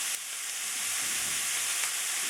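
Diced onion sizzling in a pan with bacon lardons gives a steady, soft frying hiss that holds evenly throughout, close by and with no talking.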